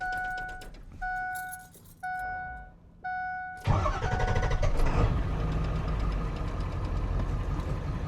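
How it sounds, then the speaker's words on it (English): A 2002 Ford F450 pickup with a 7.3 diesel engine gives four short cranks with rhythmic pauses between them, then catches and starts, settling into a loud, rough, clattering diesel idle. "Give it a crank here, it's already been running."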